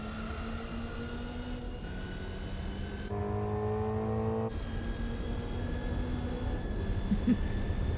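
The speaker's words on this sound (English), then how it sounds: "Just hearing the inline 4 redlining makes for a good background noise to fall asleep to." A Mazda Miata's inline-4 engine in Gran Turismo 4 holds a steady, buzzing high-rev tone near redline, with brief shifts in pitch as gears change, sustained and even throughout.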